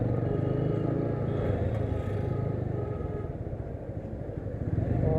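A TVS Apache RTR 200 4V motorcycle rides out of a service centre after gear and rear disc brake repairs, its engine a steady close throbbing rumble that builds slightly toward the end.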